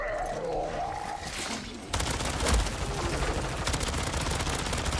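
Gunfire crackles in Call of Duty: MW3 Zombies, starting after a brief lead-in of other game sounds and then running as loud, dense bursts of rapid shots with scattered louder cracks.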